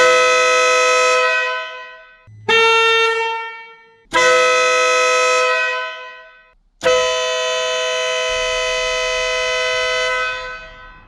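Four loud, blaring blasts from a Wolo Bad Boy aftermarket air horn, close up: two short, a longer one, then a sustained final blast that holds for several seconds.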